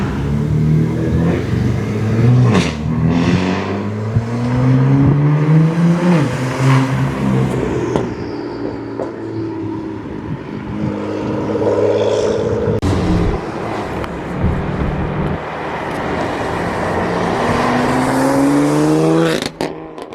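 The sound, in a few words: BMW M3 exhaust drive-by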